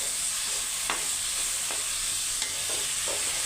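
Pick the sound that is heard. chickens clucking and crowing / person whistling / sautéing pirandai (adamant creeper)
sautéing pirandai (adamant creeper)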